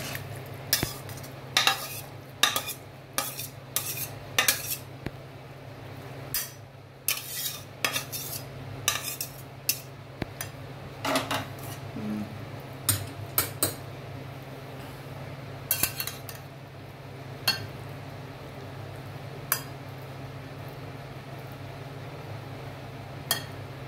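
Spoon clinking and scraping against a pan while serving cooked methi bhindi, a series of sharp metallic taps at an uneven rhythm over a steady low hum, close and fairly loud.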